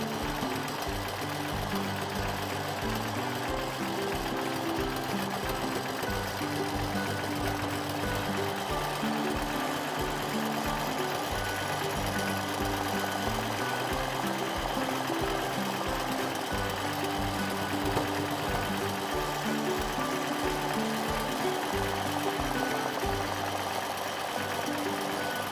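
A sewing machine stitches a starburst design into a quilt, its needle hammering in a steady rapid rhythm that runs on without pause, close and even.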